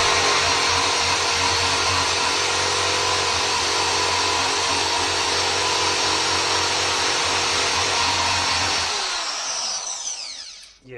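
A power tool sands rust spots down to bare metal, giving a loud, continuous, close grinding whine that holds steady for about nine seconds before spinning down and stopping.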